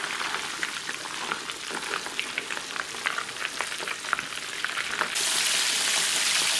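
Chicken pieces for a copycat Popeyes chicken sandwich sizzle and crackle in hot oil, a steady dense frying hiss with scattered pops, growing louder and more uniform toward the end.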